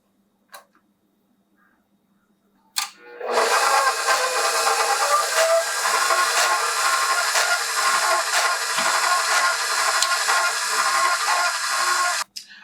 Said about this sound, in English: So I'm going to turn my machine on, and then I'm going to turn this little knob here that closes the flap at the bottom and let it open, and then it will start to sift my ingredients